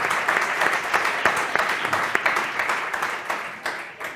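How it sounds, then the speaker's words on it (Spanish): An audience at a startup round-table of an international culinary entrepreneurs' forum gives a round of applause, many hands clapping in a lively, uneven patter with sharper individual claps standing out and faint voices beneath. "Un aplauso, por favor."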